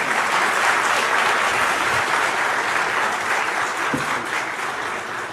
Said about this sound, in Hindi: अरे भाई तालियां इतनी धीमी सी हैं?